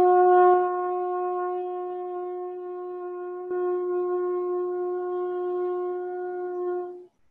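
Trumpet sustaining a single G, starting moderately loud and tapering steadily over about seven seconds to silence, alone with no talking.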